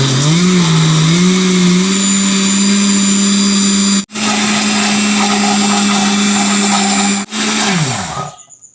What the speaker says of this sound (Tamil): இப்போ வந்து இதை பிளெண்ட் பண்ணிக்கொள்ள வேணும்